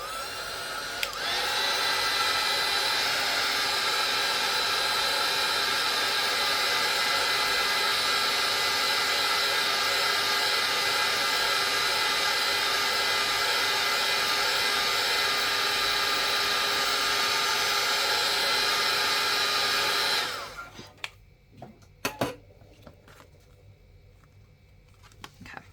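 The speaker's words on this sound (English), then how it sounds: "I'm going to hit this with my heat gun really quick though," A heat gun blows steadily on a small mixed-media art piece, a loud continuous whooshing roar lasting about twenty seconds before cutting off, followed by a few faint clicks and handling sounds.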